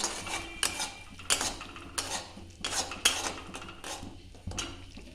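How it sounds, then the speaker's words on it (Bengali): A spoon stirs turmeric and spices in a pan while cooking green chicken, giving repeated sharp metallic clinks and scrapes at an uneven rhythm, close and fairly loud, with no voices. "এবার একটু নাড়িয়ে নেব।"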